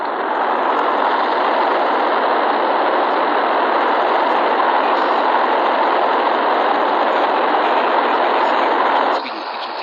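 A jet engine in the Simple Planes video game is throttled up, giving a steady, loud, broadband roar that holds evenly and eases slightly near the end.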